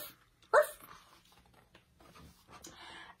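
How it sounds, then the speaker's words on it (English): A puppy gives a single short goodnight bark in a quiet children's bedtime story, close and brief, followed by faint soft rustling. "Puppy curls up in his house and gives a goodnight bark."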